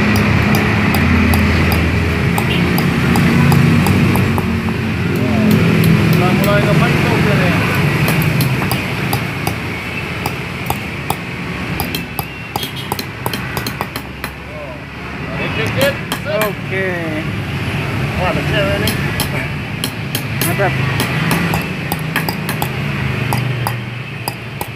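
An iron ring for a djembe drum being hammered into shape by hand, with repeated metallic strikes that grow denser in the second half, under a steady background hum and occasional voices.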